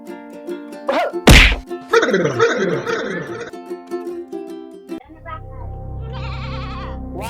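A goat bleats in a Hindi-speaking village setting, a wavering cry that follows a sharp whack and comes through amid loud voices and other noise, fairly close.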